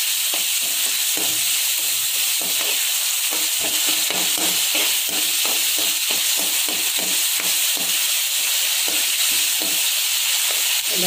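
Onion, tomato and garlic sautéing for broad bean poriyal after mustard seeds have popped, giving a steady loud sizzle with rhythmic scraping strokes of a spatula throughout.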